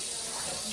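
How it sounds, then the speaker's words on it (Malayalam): Tap water running hard into a sink, a steady close rushing hiss with no break over the short stretch. "ശരിക്കുട്ടി വെള്ളം താഴെ പോണു"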